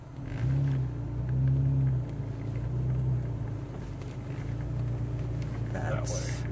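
Car rolling slowly over a rough road on the way to a hike at El Chuveje in Sierra Gorda, Mexico, a steady low engine rumble with bumps, heard from inside the vehicle.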